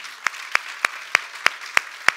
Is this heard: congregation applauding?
yes